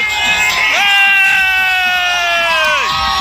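A loud, sustained group yell rises and holds, a crowd whooping and cheering together close by before it trails off, celebrating a win at a village cricket tournament.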